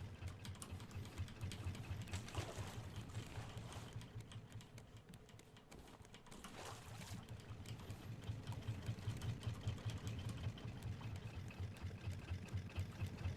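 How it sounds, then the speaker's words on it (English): Motor boat engines drone steadily in the Raft survival game, a continuous low mechanical hum with faint rattling texture that holds without a break. "Now we just watch the engines, keep them topped off."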